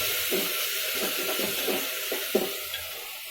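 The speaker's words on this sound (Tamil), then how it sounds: "வெங்காயம் வதங்கிச்சு தக்காளி போட்டுட்டேன்" Onions and tomatoes sauté in a pan for mudakathan kuzhambu, a soft steady sizzle broken by about six rhythmic stirring scrapes close by.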